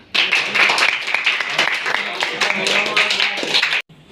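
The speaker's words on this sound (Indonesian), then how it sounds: "Tepuk tangan." A school class clapping hands together after a religious sermon lesson, a fairly close burst of many claps with children's voices mixed in, cutting off abruptly at the end.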